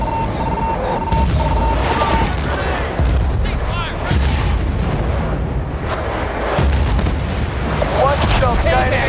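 Video game artillery fire mission: a rapid series of heavy booms and blasts rolls through the clip, dense and loud, with radio-style voices speaking over the barrage.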